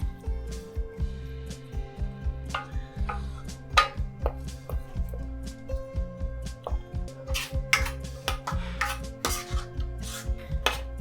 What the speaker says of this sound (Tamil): இப்போ இந்த பன்னீரை நாட்டு சர்க்கரையில் நல்லா ஒரு 3 நிமிஷம் நல்லா பிரட்டியாச்சு